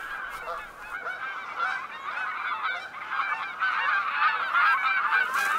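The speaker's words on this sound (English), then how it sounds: "Rowdy Canada geese broadcast her arrival." A noisy flock of Canada geese honks continuously in overlapping, rowdy calls, fairly loud and steady throughout on a coastal shore.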